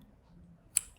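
Scissors snip through the strings on a corn husk doll, a single quick near cut standing out from a quiet room.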